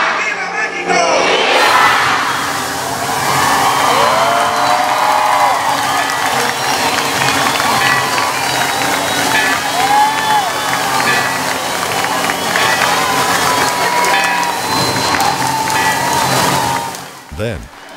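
A large crowd at Mexico's Independence Day grito in Mazatlán shouts and cheers steadily in a dense, loud roar that fades near the end.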